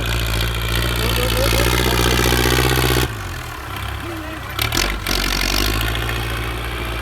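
A Kubota L5018 turbo tractor engine runs loud and close with a deep steady drone, dips in level midway, then rises again, with a faint turbo whine over the top.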